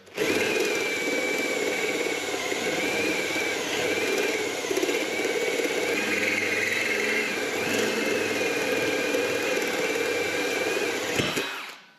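An annular cutter bores through a workpiece during foundation work, a continuous grinding motor drone with a wavering whine and slight changes in load, then it winds down at the end.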